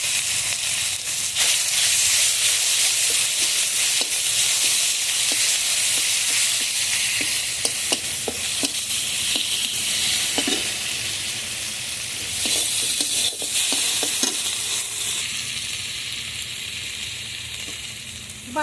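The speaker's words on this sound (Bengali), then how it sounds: "ওই তেলের মধ্যে দুটো তেজপাতা দিয়ে দিয়েছি। এখন পেঁয়াজ বাটাটা দিয়ে দেব।" Onion paste fries loudly in hot oil with bay leaves, a dense, continuous close sizzle and hiss with occasional stirring clicks, and no talk over it.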